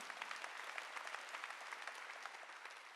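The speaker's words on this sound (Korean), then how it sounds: "박수" A church congregation applauds during a sermon, giving a steady wash of many hands clapping. It sounds fairly distant and quiet, with no voices over it.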